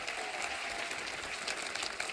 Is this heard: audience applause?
yes